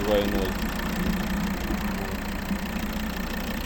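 A 2013 Volvo V60 R-Design's 2.4-litre five-cylinder D5 diesel engine idles with a low, steady rumble and faint knocking vibration, while someone talks over it.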